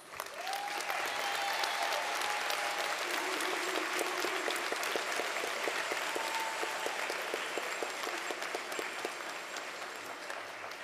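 Sustained audience applause fills a high school commencement ceremony, a dense, even wash of clapping that holds steady for about eleven seconds, with faint whistles or cheers drifting through.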